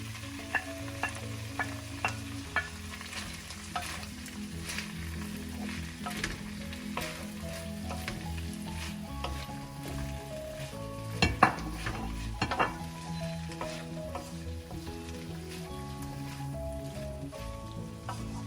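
Egg frying in a pan for chicken chow mein, with steady sizzling under repeated sharp clicks of a utensil stirring and scraping, plus a few louder clanks near the middle, with no talk.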